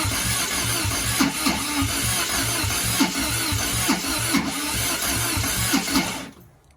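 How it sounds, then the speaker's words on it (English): Triumph TR7 engine cranking on the starter and failing to catch, a continuous rhythmic churning close by with steady low pulses, then cutting off at the end. "So I think that's it trying to start. It just doesn't seem to be able to get going."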